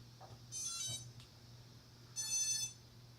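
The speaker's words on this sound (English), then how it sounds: "You should hear a couple beeps." Two bursts of rapid high electronic beeps from a Reptile 500 quadcopter starting up after its power connector is plugged in, each about half a second long, separated by a short pause, fairly close and clear over a faint low hum.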